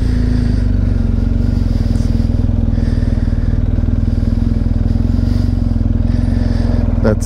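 BMW GSA motorcycle engine idling loud and close, a constant deep rumbling throb with steady pulsing that holds without revving, plus a brief clatter near the end and no talking.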